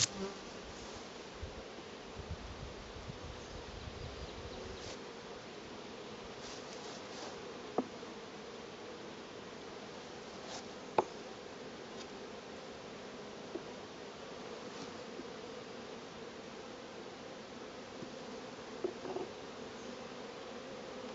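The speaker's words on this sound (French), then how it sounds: "C'est une ruche qui est très agressive." Honeybees from an aggressive hive buzz steadily in a dense, continuous drone, close and constant, with a few faint rustles and clicks beneath.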